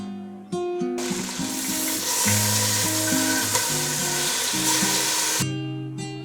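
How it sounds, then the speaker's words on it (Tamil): Chicken pieces fry in butter and a little sunflower oil for a dhaba-style butter chicken, making a loud, close, steady sizzle. It swells in after a brief pause and fades near the end, with tuneful background music playing throughout. "சிக்கனை எப்படி ஃப்ரை பண்ணணும்னு பார்க்கலாம்"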